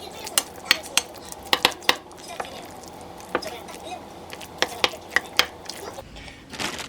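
Food is tossed with sesame oil in a bowl, a utensil clinking and scraping against the bowl in close, irregular bursts with quieter pauses between.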